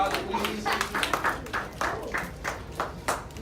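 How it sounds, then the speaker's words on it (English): A small audience at a student public-speaking school event applauds the parents, with steady, fairly close hand clapping that continues throughout. "Let's give them a round of applause"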